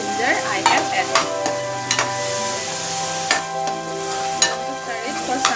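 Grated tomato and ginger sizzle in hot oil for an Assamese-style Pabda fish curry, a steady close fry broken by repeated scraping strokes of a spatula stirring the pan.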